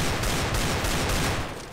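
Dense, continuous automatic gunfire from the video game Counter-Strike: Global Offensive, a loud, sustained burst of rapid shots filling nearly two seconds before easing off slightly at the end.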